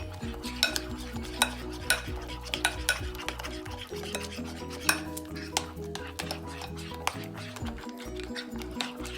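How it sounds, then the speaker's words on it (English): Banana fritter batter being stirred in a bowl for Jamaican banana fritters, with repeated close scrapes and light utensil clinks in an irregular rhythm over steady background tones. "we continue mixing"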